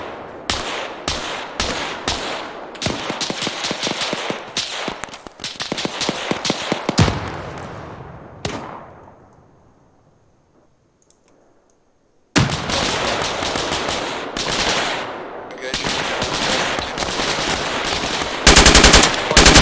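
Sustained bursts of enemy machine-gun fire in the military shooter Arma 3, loud dense rattling volleys that break off into a fading echo, then resume just as heavily after a short quiet gap.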